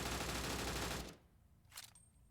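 A blue barter assault rifle in a video game fires a dense, loud automatic burst for about a second, then cuts off, leaving a faint click and quiet room tone.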